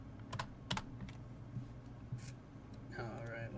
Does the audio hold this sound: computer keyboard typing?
yes